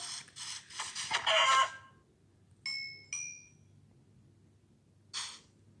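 Minecraft chickens clucking: a quick burst of several close, loud clucks, then two short isolated clucks and one more a moment later, with quiet background between.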